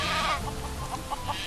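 Noisy chickens in the video game Craft the World give a series of short, mid-loud clucks and squawks in quick succession over a faint game backdrop.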